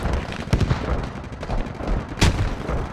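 Gunfire rings out in the military shooter game Squad, with sharp loud shots standing out over a rumbling battlefield backdrop, two especially prominent cracks a couple of seconds apart.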